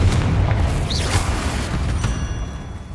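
The Confringo spell explodes in Hogwarts Legacy, a deep, rumbling boom with a crackling blast tail that fades over a few seconds, and a brief whistling flourish near the start.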